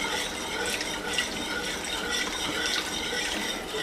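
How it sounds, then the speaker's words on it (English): Canned beef broth pours steadily into a pan of thickening onion gravy for hamburger steak, a continuous close liquid splashing with no talk. "I just use canned beef broth, and I start adding the beef broth to it"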